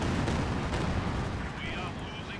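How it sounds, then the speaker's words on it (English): Katyusha rocket artillery strikes on grenadier infantry in a World War II strategy game, a dense, continuous rumble of blasts and gunfire lasting a couple of seconds, loud and close. "Katusha hitting the Grenadiers."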